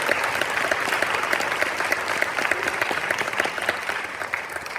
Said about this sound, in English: if you can just give us a nice round of applause for our percussionists